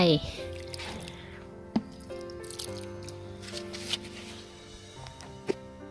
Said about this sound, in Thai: นี่กากของปุ๋ยหมักทั้งน้ำทั้งตอนใส่ลงไป